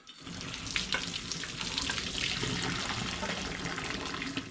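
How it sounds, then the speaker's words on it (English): Boiled potatoes poured from a pan into a colander, a steady rush of water splashing and hissing through the holes for several seconds, close and fairly quiet, with no talking. "we'll have a bit of steamy drama as I pour my potatoes through the colander"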